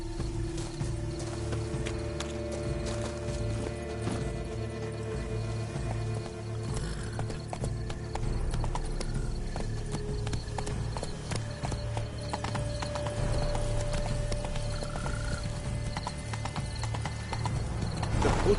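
Hooves of a horse galloping in the Witcher 3: Blood and Wine video game, a steady rapid clip-clop running continuously and loud over a dense bed of game music and ambience, with a brief whinny.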